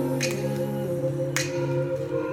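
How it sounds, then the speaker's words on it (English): Two crisp finger snaps, sharp and evenly spaced, ring out over a sustained, mellow synth chord in a pop song. "I'm hearing finger snaps."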